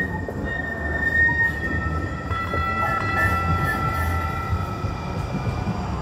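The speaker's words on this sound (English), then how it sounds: "It's the light rails going past me." A light rail train passing close by outdoors, a continuous rumble of wheels on track with high metallic wheel squeal lingering throughout.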